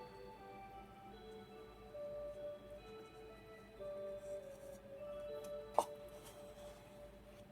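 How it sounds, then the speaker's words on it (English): A clock ticks steadily in a quiet room, faint and regular, over a low hum and faint ringing tones, with one sharp brief knock near the end. "You guys get to hear my clock."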